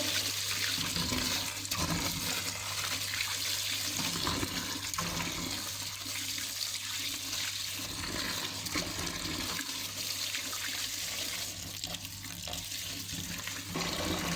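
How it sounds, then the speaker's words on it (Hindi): Mustard greens (saag) washed under running water in a strainer set over a tray: a loud, steady gush and splash that continues without a break. "छलनी के अंदर साग को इस तरह से हम वॉश करेंगे"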